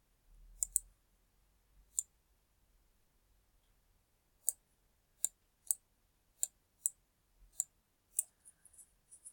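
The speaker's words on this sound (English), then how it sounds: "If you want to choose a color, you have to click" Computer mouse clicks on a drawing website, about a dozen sharp, distinct clicks, some in quick pairs, spaced irregularly over a quiet background.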